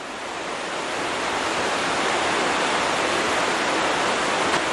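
Steady, full rush of a waterfall and river water near Italy's Tiber, the Nera River spilling along close by, a dense continuous roar that swells slightly and then holds evenly with no voices.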